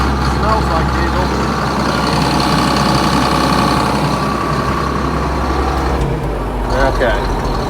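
Diesel engine on a corn fodder baler idling loudly with a steady low rumble and rattling mechanical clatter, close by, the roar easing slightly near the end.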